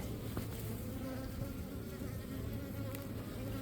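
Russian honey bees swarm around an open hive, their dense, steady buzz close and loud throughout with no speech over it.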